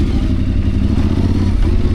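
A Tuareg 660 motorcycle engine rumbles loud and close with a deep, steady throb, a continuous low growl with slight mechanical clatter.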